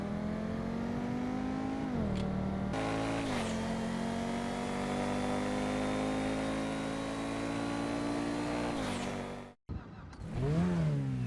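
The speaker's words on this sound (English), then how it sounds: "This also does have that turbo sound with that deeper high revving sound." Turbocharged Osiris car engine from GTA Online revving loudly and steadily for about nine seconds, with a brief cut to silence, then another sharp rev climbing and falling.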